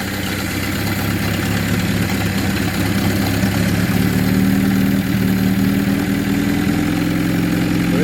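A 1600 engine first started after 30 years runs on four cylinders, a loud, steady, slightly rough idle throughout with a faint rising whine near the end.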